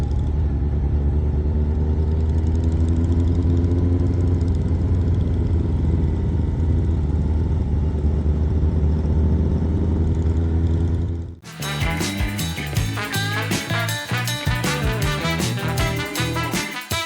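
Motorcycles gather for a charity ride of over 150 bikes, their engines first a steady loud idling rumble, then a sudden cut to a busier stretch of sharp, rhythmic revving pulses close by.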